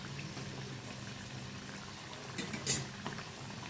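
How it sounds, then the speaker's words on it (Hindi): Dough pieces made from wheat flour and maida fry in hot oil in a pan, giving a steady low sizzle and bubbling, with a few brief louder crackles and spatters near the end. "अब इन्हें इधर से भी अच्छे तरीके से फ्राई होने देते हैं"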